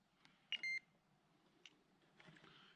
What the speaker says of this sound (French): Il y a une sensibilité extrême que juste à bouger le détecteur, ça fait sonner.